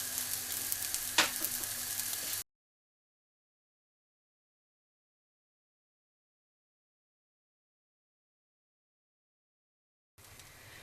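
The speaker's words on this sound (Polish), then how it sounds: "Upiekam lub smażę na nie za dużym ogniu przez kilka minut, tak żeby z każdej strony ładnie się zrumieniły." Meatballs fry in a pan over moderate heat with a close, steady sizzle and a single sharp tick. The sound cuts to total silence for several seconds, then the frying returns briefly.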